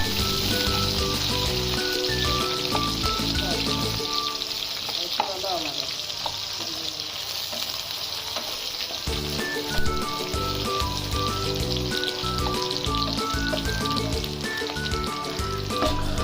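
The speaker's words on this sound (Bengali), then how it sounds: "পেঁয়াজগুলো ব্রাউন কালার হওয়া পর্যন্ত পেঁয়াজগুলোকে ভালো করে ভেজে নিব" Chopped onions fry in hot oil for a beef curry, giving a continuous crackling sizzle that holds steady throughout, with background music playing alongside and dropping out briefly in the middle.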